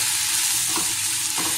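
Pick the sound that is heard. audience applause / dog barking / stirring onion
stirring onion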